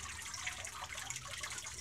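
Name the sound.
water draining through a papermaking sieve from pulp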